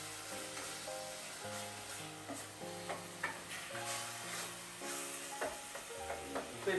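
Apples frying in a pan give a low sizzle under steady music, with occasional light ticks and scrapes of stirring.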